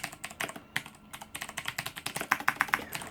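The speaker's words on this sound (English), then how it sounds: "And this has the Cherry MX Blues in it, so really clicky." Clicky mechanical keyboard with Cherry MX Blue switches on a Razer BlackWidow Ultimate, typed in fast irregular bursts of sharp close clicks, with a brief pause about a second in.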